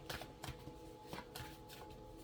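Cards handled and laid one over another during a tarot-style reading, a few soft papery slides and taps, close and quiet, with no talk.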